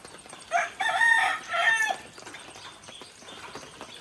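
Chickens crowing loudly in a couple of bursts, followed by softer clucking and rustling nearby.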